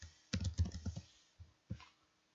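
Short bursts of computer keyboard typing while renaming a button in software: a quick cluster of close, crisp keystrokes, a pause, then two more isolated taps.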